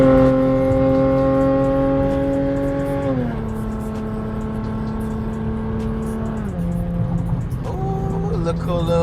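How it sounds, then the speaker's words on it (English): A Jeep engine revs hard and steady, its pitch holding high before dropping in two stepped falls and climbing again near the end, loud and close with speech over it. "We gonna blow the motor in this bitch."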